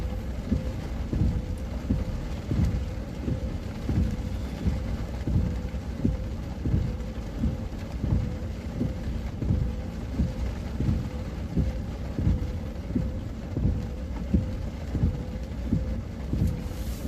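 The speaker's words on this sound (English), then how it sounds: "that sound is very soothing, the rain and the wipers" Rain drums on a storm chasers' car by Lake Erie while the windshield wipers sweep in a regular rhythmic thump, loud and steady inside the cabin.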